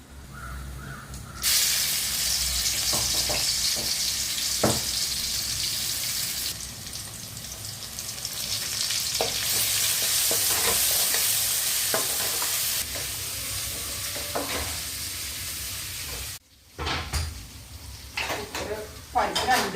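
Ivy gourd (kovakkai) fries with shallots and garlic in a hot pan. A loud, steady sizzle is broken by scraping stirs and clinks, goes quiet briefly near the end, then crackles back.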